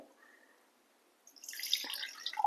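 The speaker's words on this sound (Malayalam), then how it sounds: "ആദ്യം നമുക്ക് വെള്ളം ഒഴിച്ചിട്ട് നന്ന നന്നായി കഴുകിയെടുക്കാം" Water poured over sago pearls in a kitchen to wash them. A quiet stretch gives way to a close, sputtering splash that builds and keeps bubbling to the end.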